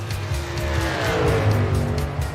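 A racing car engine in iRacing at Texas Motor Speedway roars and shifts pitch with tires squealing, loud and continuous, sounding like a game's race soundtrack.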